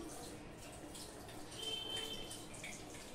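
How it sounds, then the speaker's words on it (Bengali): Mutton biryani gravy is poured from above onto the rice, giving a soft, steady liquid splash and trickle that stays quiet and close throughout, with a slight swell midway. "উপর থেকে শুধু ঝোলটা দিয়ে দিলাম।"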